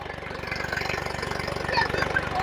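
A Sonalika tractor engine labours during a plough competition demo in the field, a steady close chugging with a quick regular pulse and faint background noise.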